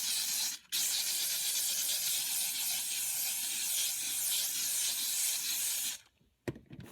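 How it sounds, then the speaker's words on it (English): Handheld steamer hissing steadily over a light-colored cloth car seat, a continuous loud rush of steam that cuts out briefly early on, then stops near the end with a few short clicks. "I'm going to grab the steamer and run it over the seat really quick."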